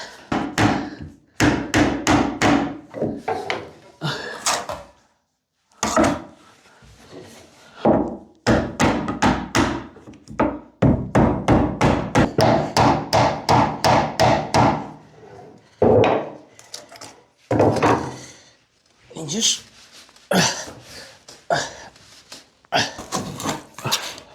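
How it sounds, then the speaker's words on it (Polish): Hammer blows during a bathroom sink replacement, struck in rapid bursts of sharp, close impacts, with fast runs of steady hits broken by short pauses. "żeby może to siłą młotkiem powbijać"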